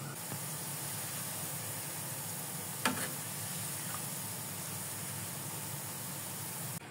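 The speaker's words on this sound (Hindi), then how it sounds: "बस इसके ऊपर मैं बघार डालता हूँ तो आपको दिखाता हूँ" Hot baghar tempering being poured over haleem, giving a steady, even sizzling hiss with one sharp crackle in the middle, no talking.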